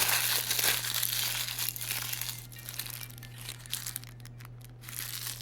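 A sheet of parchment paper crumpled and crushed by hand before lining a loaf pan, a continuous close crinkling and rustling with sharper crackles toward the end, alone without talk over a low steady hum.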